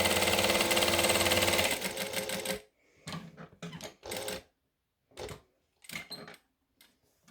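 An industrial sewing machine stitches a box on a clutch, running in a loud continuous whir before stopping, then several short bursts of stitching separated by pauses, close by.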